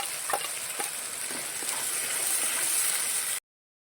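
A paste of tomato, onion and garlic fries in oil with spices, a dense close hiss with a few soft pops and stirring scrapes that cuts off abruptly into silence near the end.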